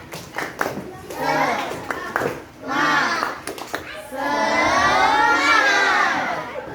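Children in a classroom do the 'tepuk semangat' clapping chant, rhythmic bursts of hand claps mixed with young voices chanting loudly together, with an adult teacher's voice between the rounds.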